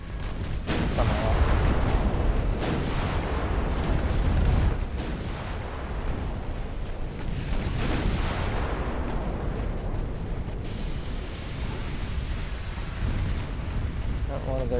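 A torpedo explodes in the naval battle game Ultimate Admiral: Dreadnoughts, with heavy, rumbling booms and rolling blasts layered over continuous battle noise, loud and dense throughout.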